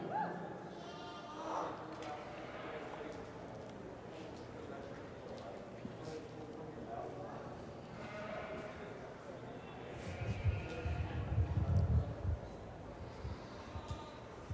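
Goats bleating at a youth livestock show goat competition, scattered calls heard over a crowded, reverberant arena hum, with people talking and a louder burst of applause or crowd noise near the end.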